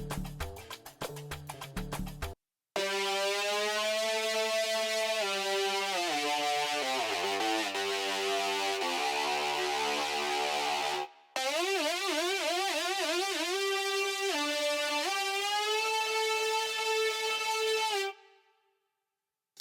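Bright synthesizer lead from Serum plays a solo, gliding and warbling between notes with fast vibrato runs, sustained and loud, cutting out briefly twice before fading.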